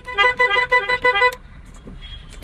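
A car horn honks in five quick, loud bursts, then fades to faint road noise.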